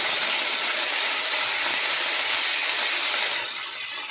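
Broccoli florets tipped into hot oil in a pan for a Bengali broccoli curry, giving a loud, dense, steady hiss of frying that eases slightly near the end.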